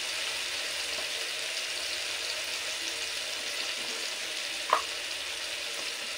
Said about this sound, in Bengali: আদাটা একটু তেলের মধ্যে নেড়ে নিতে হবে, আদাটা গন্ধ, কাঁচা গন্ধ যাওয়া পর্যন্ত